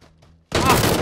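In the PUBG battle royale game, a sudden loud, broad burst of gunfire cuts in halfway through after a brief quiet, low murmur and carries on to the end.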